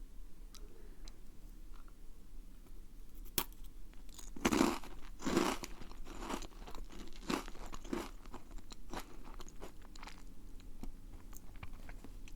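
Crunchy bites of chocolate dagashi, the small Japanese penny snacks, close to the mic: sporadic sharp crunches cluster around the middle, between quieter chewing with no talk.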